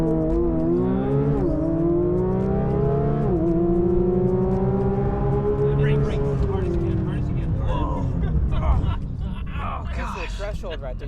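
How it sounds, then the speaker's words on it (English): A Porsche 992 GT3 brakes hard at the threshold from 100 mph with ABS engaged: a loud, steady engine drone and cabin roar whose tone slides downward as the car slows, continuous throughout. "You can feel when the ABS kicks in"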